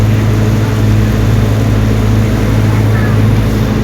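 A motorboat engine drones steadily and close, a continuous low hum that persists throughout the ride.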